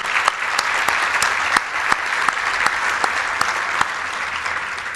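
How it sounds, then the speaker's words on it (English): Audience applause at a charity breakfast fills the room, a dense, steady clatter of many hands with sharper individual claps popping out, sustained throughout without pause. "Yeah, I know, that's worth applause."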